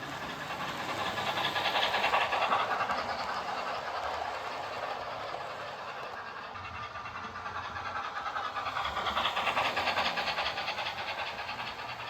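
Model railroad trains running through a superelevated track curve on a layout, giving a steady, continuous rolling rumble and hiss that swells and eases across the length, with no talk.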